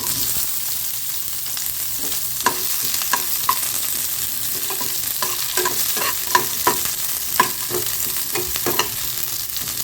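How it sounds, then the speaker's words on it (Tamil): Sliced onions with green chillies sauté lightly in a pan for broccoli kurma, a steady soft sizzle under intermittent spatula scrapes and taps, close and fairly loud with no voices. "வெங்காயம்லாம் லைட்டாக வதங்கினா போதும்."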